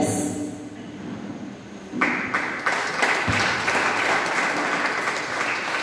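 An audience applauds at a church discipleship graduation ceremony in Honduras, scattered clapping swelling into full steady applause after two seconds.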